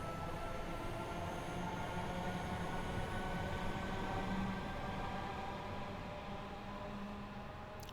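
A train rumbles past in the Train Sim World 2 video game on the Cathcart Circle line, a steady loud rolling roar with faint wheel tones that holds for the whole stretch and eases slightly at the end.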